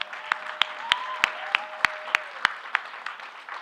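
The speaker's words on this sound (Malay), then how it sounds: "Berikan tepukan gemuruh" Audience applause at a political party assembly, a dense wash of clapping with sharp, regularly spaced loud claps standing out in rhythm and a faint tone running beneath.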